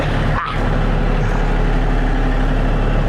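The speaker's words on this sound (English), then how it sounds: "I hope the engine's not making too much noise." A nearby engine runs steadily while wood is cut for a small woodshed, a constant low rumble that holds level for the whole stretch with no talk over it.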